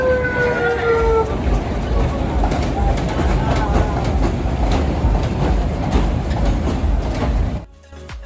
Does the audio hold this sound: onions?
no